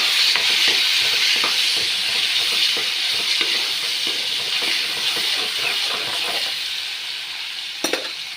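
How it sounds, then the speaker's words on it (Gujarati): Ginger, chili and garlic paste sautéing in a pan gives a loud, continuous sizzle and hiss with scraping stirs, fading slightly toward the end, with no talking. "જો આદુ, મરચાં, લસણની પેસ્ટ નાખશું. સારી રીતે સાતળી નાખશું,"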